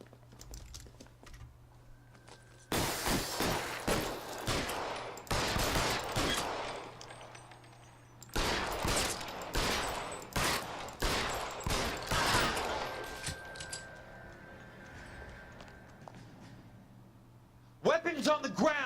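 Gunfire in the L.A. Noire video game, with rapid bursts and volleys of loud shots in two long stretches and another burst at the end, mixed with keyboard typing while people talk over it.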